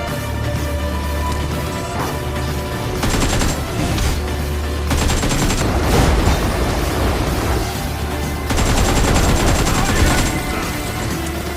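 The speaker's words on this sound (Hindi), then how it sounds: "अब देखो ड्रैकुला को कैसे मारते हैं हम" Automatic gunfire rattles in the BGMI battle royale game while fighting an enemy, loud bursts of rapid fire around three, five and nine to ten seconds over a steady game background.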